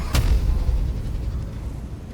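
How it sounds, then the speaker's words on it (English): A level 4 magic missile spell in Baldur's Gate 3 lands as one sharp, loud blast, followed by a low rumble that fades over the next two seconds, with no voices. "Then let's fire another magic missile, a level 4 one."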